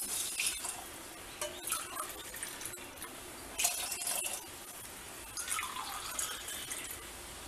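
A quarter cup of water is poured into a pressure cooker while fenugreek porridge is being made, giving faint, intermittent splashing and trickling bursts in a quiet kitchen.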